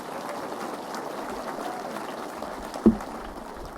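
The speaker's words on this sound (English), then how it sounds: "can we get another round of applause for Landon" Steady applause from a community meeting audience for the school principal, an even wash of clapping with a single sharper knock near the end.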